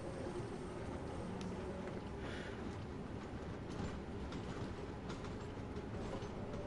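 London Underground Bakerloo Line train running in Train Sim World 3, a steady continuous rumble with rail noise and faint clatter throughout, no talking.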